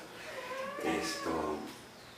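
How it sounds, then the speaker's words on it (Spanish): A house cat gives a drawn-out, wavering meow, close by and moderately loud, inside a home during an interview, with faint room noise around it. "Pasa el gato."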